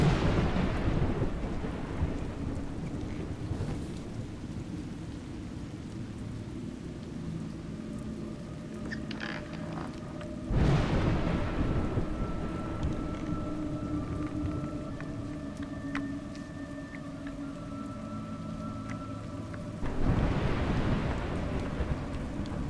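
Steady rain and rolling thunder in the video game A Juggler's Tale, a continuous wash of rainfall with loud thunder swells near 10 and 20 seconds and a faint tonal hum beneath, no voices.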